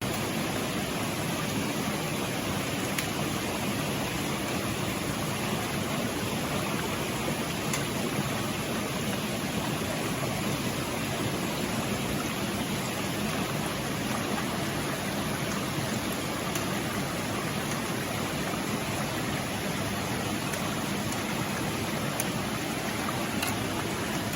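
Creek water flows steadily along a hiking trail at Mill Creek in Virginia, a continuous broadband rush that stays even and unbroken throughout, with no voices over it.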